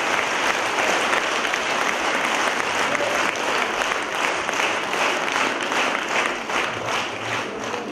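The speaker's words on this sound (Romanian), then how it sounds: "Aplauze pentru acești copii dragi." A concert audience in a municipal hall in Hîncești applauds children performers, dense steady clapping filling the room without a break, loud and sustained throughout.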